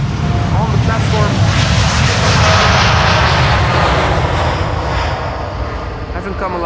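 A Lufthansa CRJ regional jet departs Schiphol's Polderbaan runway for Munich, its loud, broad jet roar swelling close by and then easing slightly as it passes, with a voice present beneath it.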